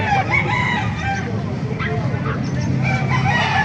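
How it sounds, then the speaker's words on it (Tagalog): Several roosters crow loudly and overlap with clucking chickens, a busy, close flock sound with no pauses, at a chicken market in Calumpit, Bulacan. "Pakita natin mga manok dito."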